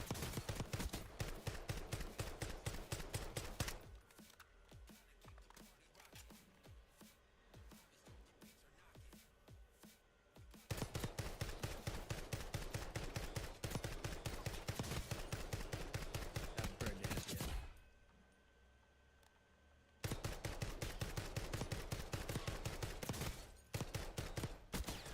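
Repeated semi-automatic gunfire from a video game weapon. Fast strings of sharp shots come in long runs, broken by a couple of quieter pauses of several seconds before the firing resumes at full loudness.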